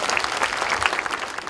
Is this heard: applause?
yes